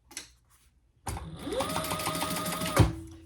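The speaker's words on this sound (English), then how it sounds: "we're going to do a row of top stitching on the middle piece" A sewing machine running a row of top stitching on the middle piece of a fabric pouch starts after a short pause, whirring steadily up close for over a second before halting with a thump.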